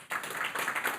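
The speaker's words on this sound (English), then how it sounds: "If no, then another applause for Lukas." A conference audience claps after a technical talk, a brief burst of moderately loud, fairly close applause that starts abruptly and runs evenly for about a second without speech.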